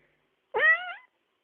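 A single cat meow, clear and close, rising sharply then held briefly with a slight downward bend, alone against silence.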